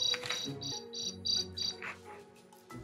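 A cricket chirps from a picture book, giving a few short, bright trilling pulses in quick succession that are clear and close and heard alone with no talk.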